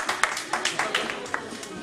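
Short burst of applause from a small group at a radio station's tenth anniversary celebration, quick sharp claps at close range, loose and uneven over about two seconds.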